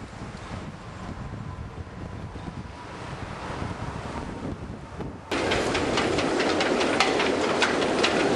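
Strong wind roars steadily across the microphone aboard a sailboat underway, a dense rushing noise that suddenly grows louder and harsher partway through as a heavier gust hits, with rattling buffets and no talking.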